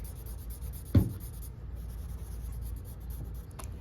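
A marker or pencil colours in a drawing black, making soft, steady scratching strokes close by, with one sharper, louder stroke near the start.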